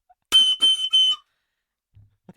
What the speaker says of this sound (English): I spite thee with my recorder.